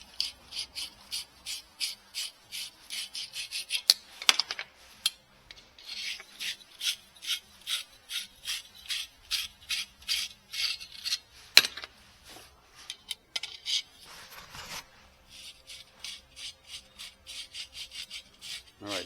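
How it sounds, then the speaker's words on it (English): Refrigeration tubing for a Northland NM13A refrigerator rebuild is cleaned out with rapid, rhythmic scrubbing and rasping strokes, close and steady, broken by a few brief pauses and knocks. "Let's clean out our tubing here."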